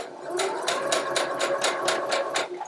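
A sewing machine stitches a quilt seam with a 6mm allowance up to a pin, whirring in a quick even run of about nine regular needle strokes, close and clear.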